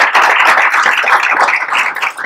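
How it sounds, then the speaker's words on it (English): Audience members at a talk event applaud a panel of speakers, close, loud, dense clapping for a couple of seconds with no talking. "And let's give them a round of applause."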